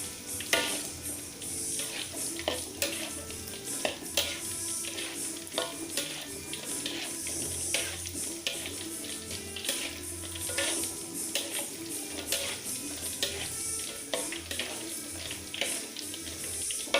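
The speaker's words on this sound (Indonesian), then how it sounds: "Dan solusinya Anda harus mengaduk-aduk kayak gini ya, biar sama-sama matang" Tofu frying in oil in a pan is stirred around, giving a steady crackling sizzle with frequent sharp scrapes and clinks of the utensil against the pan, fairly quiet and close.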